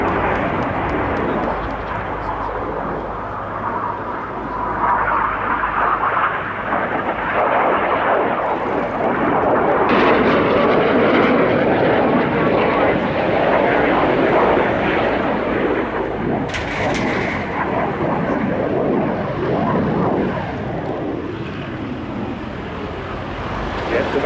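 Aerobatic display jets trailing red and blue smoke roar past in formation at an airshow, a loud sustained rushing jet noise that swells and fades over the whole stretch, with bird calls and a commentator's voice faintly in the mix.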